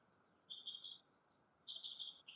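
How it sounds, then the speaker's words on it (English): Mockingbirds and other birds chirp in the distance outdoors in a garden, two bursts of high, thin tweeting over a faint steady background hiss. "mockingbirds and other birds are tweeting in the distance"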